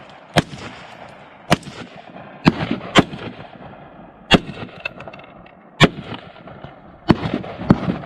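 Sharp gunshots from steel-case Tula ammunition crack out at uneven intervals, about ten loud reports in eight seconds, some close together, each with a short outdoor decay and no talking.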